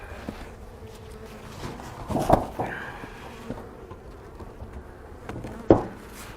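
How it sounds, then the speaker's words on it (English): Agitated honeybees swarm around a beehive at night, with a low continuous hum and scattered louder buzzes as individual bees fly close past, the sharpest near the middle and end. "Made a bunch of bees mad."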